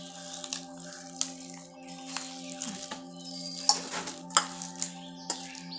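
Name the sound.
mashing palm fruit seed with water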